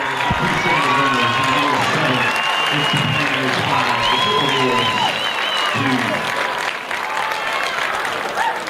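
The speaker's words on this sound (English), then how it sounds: "And just listen to this crowd" A high school baseball crowd at a Lehi versus Riverton game cheers and applauds loudly, with whoops and shouts rising over continuous clapping and a few high-pitched yells standing out.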